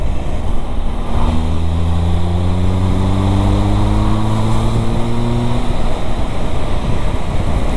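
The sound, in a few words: motorcycle engine accelerating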